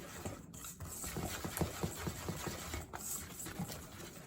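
A lemon glaze whisked quickly by hand in a bowl, giving a soft, close run of rapid, evenly spaced clicks and taps that keeps going for a few seconds at low volume.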